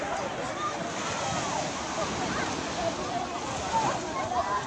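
Sea waves wash and slosh at a crowded beach, a steady broad hiss of surf with scattered splashes and many distant voices of young people underneath.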